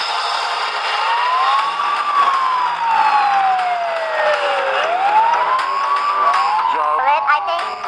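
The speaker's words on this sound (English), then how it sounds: "the police car is chasing us" Cartoon police car siren wailing loudly and continuously, its pitch sweeping up and down in long rising and falling glides, with a brief faster warble near the end.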